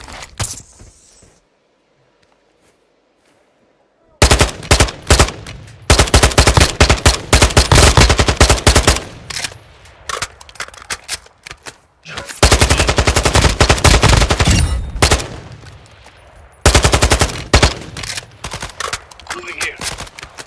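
Video game gunfire in Call of Duty Warzone DMZ: loud bursts of automatic fire and rapid shots in several dense stretches, broken by short quiet gaps, with a voice calling out during the action.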